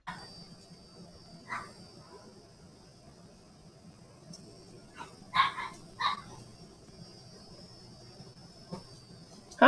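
A pet dog barks in a few short bursts across a quiet room, with a sharper yip near the end, the barks spaced irregularly and moderately close.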